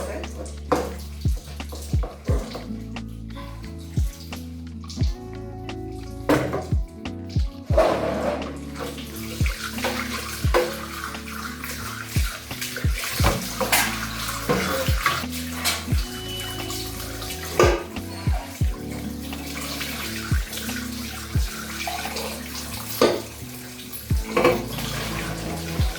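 Water runs steadily from a leaking household tap, gushing and splashing without pause, with repeated clunks and knocks throughout and a brief spell of speech.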